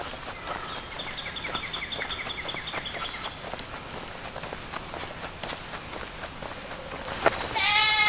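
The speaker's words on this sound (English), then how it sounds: "Yeah, I hear goats." Goats bleat along a hiking road, several wavering calls over a background of footsteps and outdoor noise, moderately distant at first, with a louder, nearer bleat toward the end.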